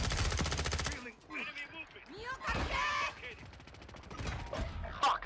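Rapid automatic gunfire in a multiplayer shooter game, with an AN-94 assault rifle in use, bursts loud and close at the start, then scattered shots and impacts as a voice talks over the action.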